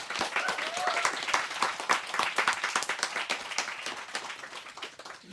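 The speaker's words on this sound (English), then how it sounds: "I'd love it if we could give them both a round of applause now" An audience at an evening author talk breaks into applause, a dense, steady patter of many hands clapping throughout without talk on top.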